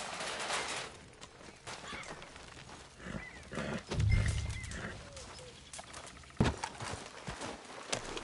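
Horse hooves clip-clop in Red Dead Redemption 2, with a short snort or whinny cue over rumbling game ambience and a sharp thump near the end.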